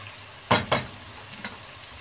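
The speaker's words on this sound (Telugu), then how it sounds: "ఇది ఇంకొక 5 నిమిషాలు వేయించుకుందాము." Tomato pieces in a hot pan for a cucumber curry give two quick sizzling stirs close together, then a fainter third scrape, over a quiet low hiss.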